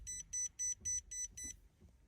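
A programmed alarm on a Redarc oil pressure gauge fitted in a Land Rover Discovery 4 TDV6, sounding six short, even electronic beeps in quick succession at close range, then stopping.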